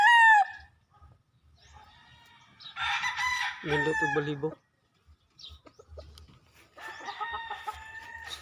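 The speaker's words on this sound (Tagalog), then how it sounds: "Oh, gwapo ng manok." A young gamefowl stag rooster crows in a long, harmonic call near the mic, with clucks and other crowing around it in an open-air backyard breeding yard; people talk between the calls.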